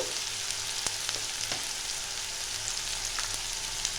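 Mutton kheema sizzles in a pan with chilli powder, turmeric and salt for a Bengali-style ghugni, a constant hiss of frying broken by a few sharp clicks as it is stirred.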